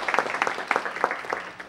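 Applause at a council meeting, a short burst of quick overlapping claps from the audience that thins out toward the end.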